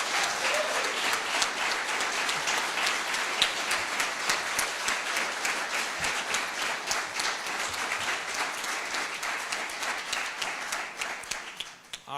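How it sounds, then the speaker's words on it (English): Prolonged, loud applause at a military retirement ceremony for a colonel's team and family, dense clapping with distinct individual claps, sustained for about twelve seconds before dropping off at the end. "make this the loudest clap of the day for Team Blecher and their support"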